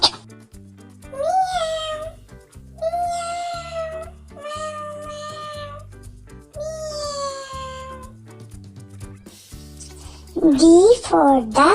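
A cat meows several times in drawn-out, rising and falling cries, spaced apart, ending with a louder, more strained yowl.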